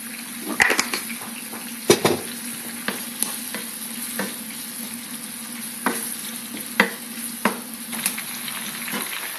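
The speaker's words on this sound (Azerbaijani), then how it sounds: "Pomidoru qoyuram qaz sobasının üzərində, azca bişirirəm." Tomatoes cook in a pan on a gas stove, a soft continuous sizzle under repeated light clicks and scrapes of stirring at irregular intervals; no one speaks.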